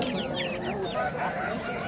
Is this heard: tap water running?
no